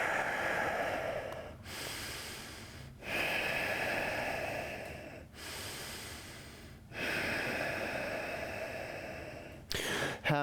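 Slow, deep breathing during yoga poses, with long steady inhales and exhales separated by brief pauses, close and fairly loud with no talking.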